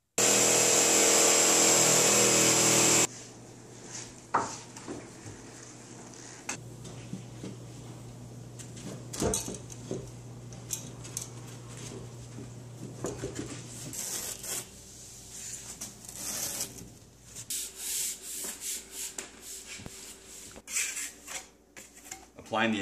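While drywall goes onto the framing of a kitchen vent stack, a power driver whines loudly for a few seconds and then cuts off. Scattered tool clatter, knocks and handling thuds follow at moderate volume.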